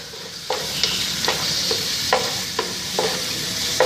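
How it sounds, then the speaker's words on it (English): Garlic ginger paste gets stirred into chicken frying in a pan for kabsa, a steady sizzle broken by regular scraping strokes of the spoon roughly every half second, close up with no talking. "I'm going to add garlic ginger paste to it. See? And I added a lot in. Then mix it well again."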